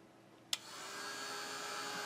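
A heat tool switches on with a sharp click, then blows a steady, loud rush of hot air to dry paint on a drink lid, continuing unbroken to the end.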